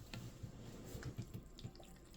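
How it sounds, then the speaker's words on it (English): Vodka poured over mullein leaves in a jar for a tincture, a soft continuous liquid trickle with small splashy gurgles, close and quiet with no talking. "So take your vodka, pour it in over."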